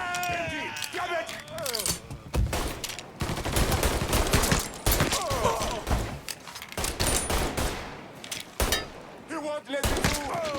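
Machine gun fire in Mafia III, dense rattling bursts and scattered shots in a close firefight, loud throughout, with shouted talk over the gunfire.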